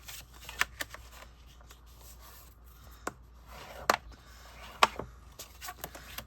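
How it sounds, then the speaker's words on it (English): Cardstock is scored at 5 1/2 inches for a top folding card base, producing quiet scraping rubs along the paper with a few sharp taps and clicks in a hushed room. "I'm going to score this at 5 1/2 to make a top folding card base"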